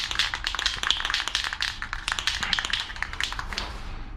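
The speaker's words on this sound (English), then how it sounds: "I'm gonna just give these a quick shake." Rapid rattling taps repeat quickly and closely as spray paint cans are shaken, their metal balls clacking inside, continuing without pause.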